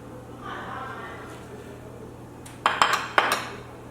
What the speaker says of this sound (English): now we're gonna mix all of this up together